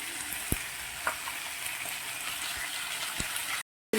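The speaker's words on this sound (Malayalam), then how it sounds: "2-3 മിനിറ്റ് നമ്മൾ ഒന്ന് എണ്ണയിലൊന്ന് മൂപ്പിച്ചെടുക്കും" Vegetables fry in hot oil for a vegetable kurma, giving a steady close sizzle broken by a few sharp stirring knocks, before the sound cuts out abruptly near the end.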